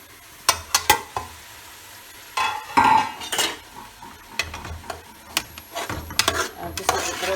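A spoon scrapes and knocks against a lidded pot while onions are stirred, giving irregular clanks and scrapes with a brief sizzle under light kitchen noise.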